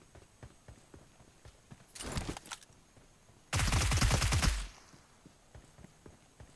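Bursts of automatic gunfire in a battle royale shooter, a shorter volley followed by a louder sustained burst, over faint footstep-like ticks with no talking.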